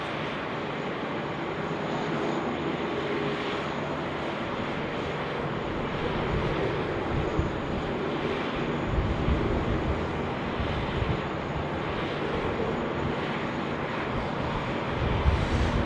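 Aircraft engines roar steadily at Sydney Airport as an IKEA-liveried plane arrives, a continuous broad rumble that holds a fairly even level throughout with slight swells.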